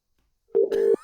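A telephone line tone sounds during a call, one steady sustained electronic tone heard close and loud through the handset, briefly interrupted partway through, with no talk over it.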